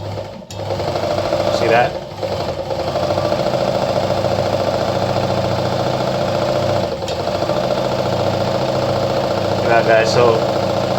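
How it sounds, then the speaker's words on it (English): An Anker RZ treadle sewing machine winds a bobbin, a steady mechanical whir running near and fairly loud throughout with brief clicks, while a person talks over it. "So I already inserted my bobbin on the bobbin winder, so when I match through now,"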